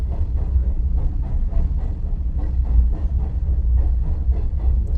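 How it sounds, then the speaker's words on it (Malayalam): A train passes near a house close to a railway station, a steady low rumbling drone that holds evenly throughout, heard indoors at a moderate distance with no speech. "വീട് സ്റ്റേഷൻ്റെ അടുത്തായ കാരണം ട്രെയിനൊക്കെ പോണ സൗണ്ട് ഉണ്ടാവും"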